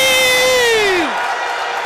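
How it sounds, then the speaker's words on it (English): Loud crowd noise erupts in a stadium right after a penalty save in a shootout at the EMF Champions League 2023 semifinals, a dense roar of voices that follows a falling whistle-like tone and then holds steady. "The crowd in here are going wild."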